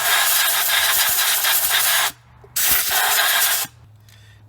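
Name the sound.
compressed air blowing out spark plug well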